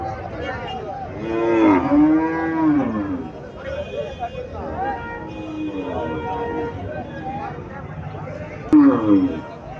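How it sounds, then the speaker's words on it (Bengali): A small local cow moos repeatedly at a cattle market, several drawn-out calls spread across the clip, fairly close, with people talking over the background. "এখানে একটা দেশি গাবি দেখা যাচ্ছে আকারে ছোট"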